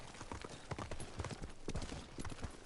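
Horse hooves clip-clopping at a steady walking rhythm in the video game Ghost of Tsushima, faint but distinct, with soft background ambience and no talking.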